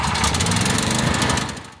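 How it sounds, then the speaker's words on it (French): A fuel-powered portable generator engine chugs steadily up close, loud rapid pulsing combustion with heavy vibration, running without pause and fading slightly at the end. "Du bruit, de la fumée, des vibrations et un moteur thermique. Bon, je parle d'un groupe électrogène."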